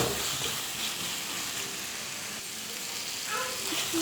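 Onion, green chili and curry leaves sizzle in a pan, a soft continuous frying hiss with faint crackles and occasional stirring scrapes, fairly quiet and without talk.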